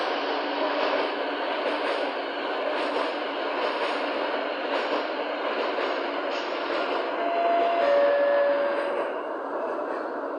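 A European passenger train in a simulation game runs with a steady, loud rolling rumble, and brief tonal squeals ring out near the end. No one speaks.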